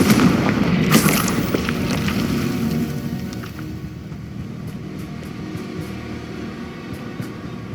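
A Confringo blasting spell explodes in the game Hogwarts Legacy: a loud, near boom in the first second that decays into a low rumble, then steady background ambience.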